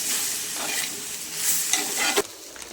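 Chopped green chili and four chopped tomatoes sautéing in hot oil in a pan, a steady close sizzle with scraping stir strokes and a sharp clank near the end, no talking.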